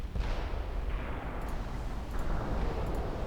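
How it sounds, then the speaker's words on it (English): Naval cruisers' guns firing at a light cruiser in Ultimate Admiral Dreadnoughts, a few heavy distant booms rolling into a continuous low rumble, steady and fairly dense with no voices. "my cruisers are opening up at the light cruiser"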